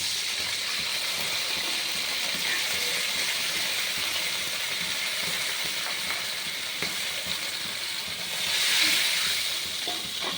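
Water poured into a pan of frying aubergine and potato for a hilsa fish curry, a loud continuous hiss and sizzle of steam that swells briefly toward the end, close.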